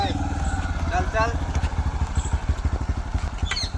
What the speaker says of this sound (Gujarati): બંધ કર ભાઈ બાઈક બંધ કર